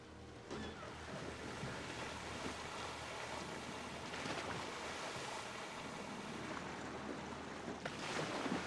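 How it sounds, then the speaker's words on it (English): Rushing water along a simple wraparound body flume ride in Planet Coaster 2, a steady broadband whoosh with wind-like roar and occasional splashing swells, continuous throughout with no voices. "This is just a simple wraparound flume, so we'll just ride it real quick."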